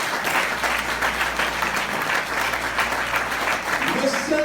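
A church congregation breaks into sustained applause and cheering during a French-language sermon, a steady, fairly loud roar of clapping lasting several seconds, with raised voices mixed in and a low hum underneath.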